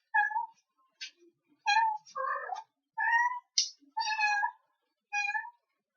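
Several pet cats meow repeatedly, close by, in a series of distinct separate calls with short pauses in a quiet indoor room.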